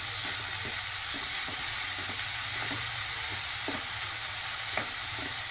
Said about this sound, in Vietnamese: Là mình xào cho nó chín con tôm nha mọi người ơi.